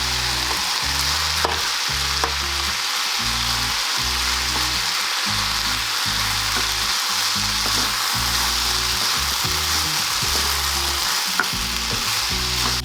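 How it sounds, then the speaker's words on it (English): Rice stir-frying in a pan for vegan pineapple fried rice gives a steady close sizzle with regular rhythmic scraping strokes of the spatula throughout, no voices. "And now you can add some rice into the pan and stir fry it."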